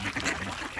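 Ducks gather and quack at an outdoor duck-feeding spot, a short burst of close, busy calls over steady outdoor background noise.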